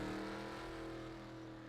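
Stock car engines in a NASCAR racing video game at Bristol at the green flag, a steady, loud, droning roar of many motors holding a sustained pitch without pause.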